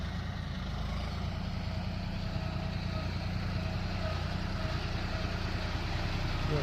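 A loader's engine runs steadily while it loads a tractor, a continuous low diesel drone with a constant mechanical rumble holding at an even level throughout.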